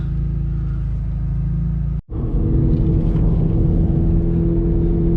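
Stage 3 Subaru WRX engine droning loud and steady from inside the car, with a brief cut in sound as it shifts, then the rumble resumes under load.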